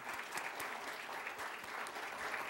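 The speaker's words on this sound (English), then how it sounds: "could I please have, applause." Steady, dense applause from an audience at a city council meeting fills the room evenly from start to end, with no speech over it.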